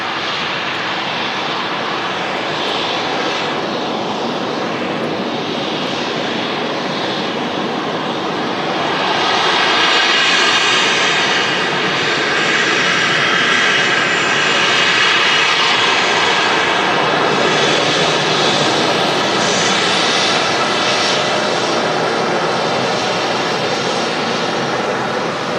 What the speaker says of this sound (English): And that's followed in by a TUI Max 8 as well.